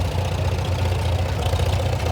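A Farmall H tractor with wheel weights front and back and an aftermarket three-point hitch, running in a steam and gas show parade; the engine makes a close, loud, steady low rumble with even chugging.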